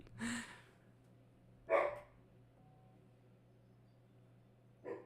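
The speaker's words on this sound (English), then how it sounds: "God, dude, these dogs, man, they're going crazy" Dogs bark in short, fairly distant bursts, three separate barks spaced over a few seconds against a faint steady hum.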